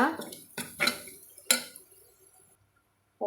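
Egg biryani with rock salt being stirred in a pot, a few distinct scraping clinks of a utensil against the metal, loud at first then trailing into quiet, with one more clatter at the end.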